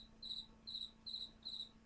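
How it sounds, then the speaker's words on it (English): A single cricket chirps in four evenly spaced, shrill trills, faint and steady over a low electrical hum, with no voices. "You can hear the cricket."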